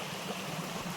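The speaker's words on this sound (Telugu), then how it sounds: "బయటకు వచ్చే వాటర్ అన్నీ కూడా ఇటు కిందికి వెళ్ళిపోతున్నాయి" A small stream of water flows through a forest near Maredumilli, a faint, continuous burbling trickle heard alone at a low, even level.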